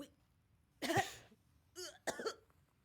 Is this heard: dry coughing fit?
yes